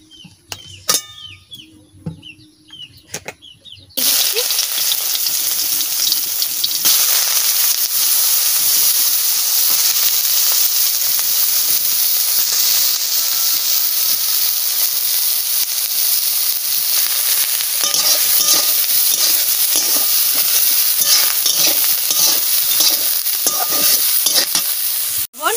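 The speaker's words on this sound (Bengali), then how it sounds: "খালি ধুইনা জিরা ভেজে দেব। সরষের তেল দিয়ে দিচ্ছি।" After a few seconds of faint handling and clatter, coriander and cumin hit hot mustard oil with a loud, steady sizzle. The hiss is close and continuous, with stirring scrapes heard through it.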